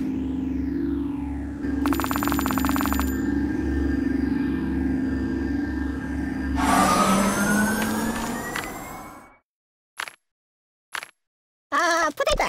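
Wailing, sweeping siren tones from an ambulance in the video game Kick The Buddy, looping loudly over a low engine-like hum, then cutting into a few short bursts separated by silence near the end.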